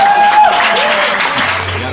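Applause from a crowd, steady clapping throughout with a brief tone at the start and voices mixed in.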